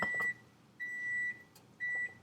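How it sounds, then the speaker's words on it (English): Microwave oven beeping in a home kitchen during chocolate preparation: three clear, evenly spaced electronic tones, each held about half a second, faint room ambience between them. "That was the microwave."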